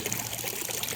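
Water trickles and pours steadily through a homemade bio filter for a duck pond, a continuous close splashing flow with no talk over it.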